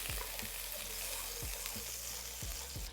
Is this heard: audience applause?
no